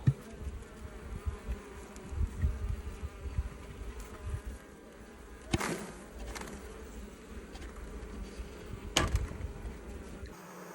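A swarm of honeybees buzzes in a continuous droning hum, with louder passes as individual bees fly close by, heard alone outdoors at a hive.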